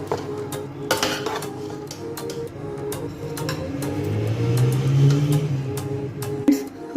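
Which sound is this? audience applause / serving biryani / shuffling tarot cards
serving biryani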